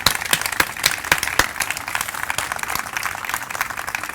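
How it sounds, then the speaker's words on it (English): Dense, continuous applause from a crowd at a community food pantry gathering, sharp handclaps stacking into a steady roar that holds for several seconds at fairly close range. "Let's give him a big round of applause."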